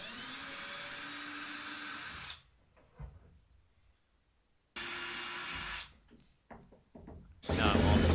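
A power screwdriver backs wood screws out of the wooden mounting blocks in a 1977 GMC Vandura van. Two steady, close whirring runs of about two seconds each are separated by quiet handling, and another short burst comes at the end.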